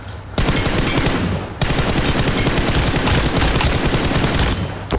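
Rapid sustained gunfire from a weapon in PUBG Mobile, loud and dense automatic bursts running almost continuously, with a brief break near the start and the firing tapering off at the end.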